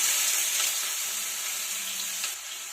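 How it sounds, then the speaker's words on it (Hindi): Onion and asafoetida frying in hot oil for street-style pav bhaji, a loud, dense, continuous sizzle close up that eases slightly toward the end. "ऑयल गर्म हो चुका है फ्रेंड्स। इसमें हम डालेंगे 1/2 टीस्पून हींग। अब हम इसमें डाल देंगे प्याज।"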